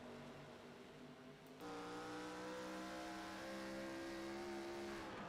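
ARCA Series race cars at Charlotte, engines droning loud and steady with layered engine tones, one car's pitch rising sharply partway through as the field runs close together, no talk.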